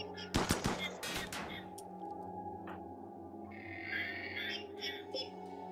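Raiders open fire in the colony-building game Rimworld: a cluster of sharp, loud gunshot cracks in the first second and a half, then a steady hum of game ambience with a few fainter pops and no talking.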